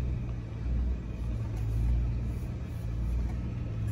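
2021 Ram 1500 TRX pickup creeping forward, a low steady engine rumble heard from the cabin, moderate and continuous with no revving.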